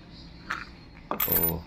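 Old coins handled at close range: a light metallic clink, then a brighter jingling clatter of coins knocking together near the end, over a quiet room.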